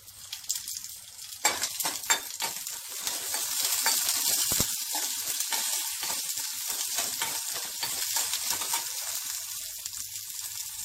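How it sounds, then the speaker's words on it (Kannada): Garlic sizzling in hot oil for a tempering for raw mango rasam, a steady crackling hiss with sharp pops and the clink of a utensil stirring the pan. "ನಂತರ ಬೆಳ್ಳುಳ್ಳಿ ಹಾಕಬೇಕು. ಇದಕ್ಕೆ ಬೆಳ್ಳುಳ್ಳಿ ಒಗ್ಗರಣೆ ಚೆನ್ನಾಗಿರುತ್ತೆ."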